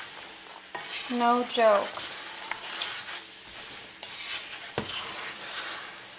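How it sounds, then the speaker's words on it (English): A spoon stirs cinnamon almonds in a bubbling pan, scraping and clinking against the metal with soft sizzling underneath, close and continuous, with a short spoken remark and some tonal squeaks early on. "you can kind of tell when you're stirring too, it's kind of getting harder to stir, because it's not so liquidy anymore"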